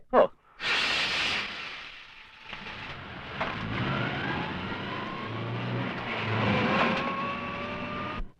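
A vehicle starts with a short burst, then its engine revs and accelerates in a rising, fairly close whine that holds for several seconds.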